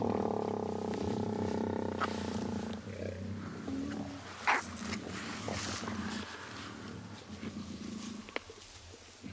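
Lions on a sunrise safari drive at Tswalu growl in a low, continuous rumbling that is steady and close, then fades into quieter grumbles and rustling outdoor ambience.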